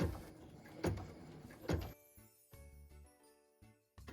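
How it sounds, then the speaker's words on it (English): An embroidery machine stitching a flower center in gold thread for a Christmas ornament: a few rattling knocks, then a whirring motor hum in short stop-start bursts, quiet and close, with no talk. "I'm just going to go ahead and let the machine stitch it"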